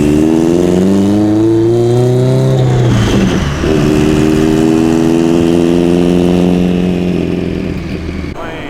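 A Subaru STI engine runs loud and close, revving up through the gears with a steady droning pull, a brief shift around the middle, then a long sustained climb, with no voices.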